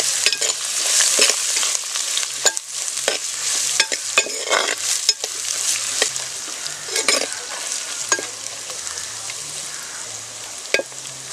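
Garlic, ginger and green chili sizzle in hot oil at a cooking camp while a spoon stirs them, scraping and clinking repeatedly over a constant crackling fry, close up and fairly loud.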